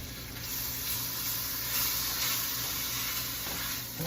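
Peeled, deveined shrimp frying in a hot pan give off a steady, moderately quiet sizzle with some light stirring noise, and nobody speaks.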